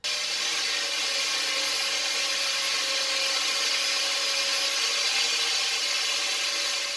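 An angle grinder cleaning galvanized coating off steel before welding, a steady high-pitched grinding whine held loud and unbroken for several seconds, with no talk.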